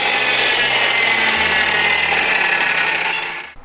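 A high-speed cutter fitted with a Maxgear cermet circular saw blade slices through metal stock, a loud, continuous bright grinding whine holding steady for several seconds before cutting off abruptly at the end.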